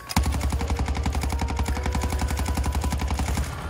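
Rapid automatic gunfire in the video game Warzone 2: a loud, sustained burst of evenly spaced shots fired close by, with no pauses and no talking.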